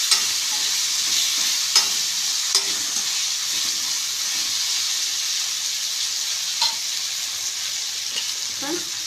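Chopped large tomato hits hot oil in a pan for a potato pepper fry, giving a steady, close sizzle and hiss broken by a few sharp clicks and scrapes of a stirring spoon.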